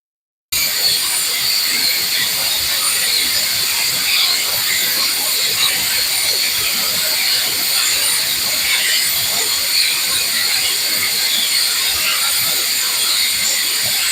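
A pressure cooker on the stove, cooking drumstick and dal curry, lets out a loud, continuous steam whistle that hisses steadily without a break for the whole stretch, with no talking.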